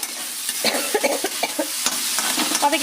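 Potato poriyal sautéing in a pan, close and fairly loud: a bright crackling sizzle with frequent scraping, tapping stirs of a spatula throughout, no voices.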